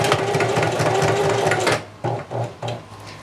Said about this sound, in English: I like to back up a couple of stitches at the end just to lock everything in place.